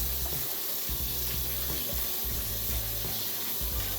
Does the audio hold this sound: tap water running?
yes